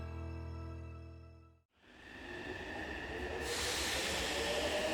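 An electric train rumbles steadily along the rails, a dense low roar with hiss rising louder toward the end, no voices.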